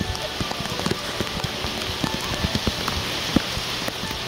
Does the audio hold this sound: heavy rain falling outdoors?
yes